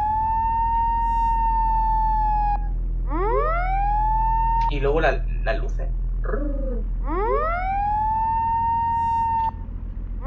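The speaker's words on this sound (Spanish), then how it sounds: "le damos al R1 donde tengo yo la sirena ahí" Police car siren in the Assetto Corsa racing game, a loud electronic wail rising and holding, broken by a burst of rapid yelping tones before the wail resumes, with someone speaking briefly over it.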